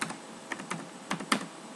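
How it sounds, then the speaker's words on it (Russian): A card number is typed on a computer keyboard: a few light, separate key taps, close and quiet, with short gaps between them. "Поэтому в данном случае мы напишем сейчас просто номер карты."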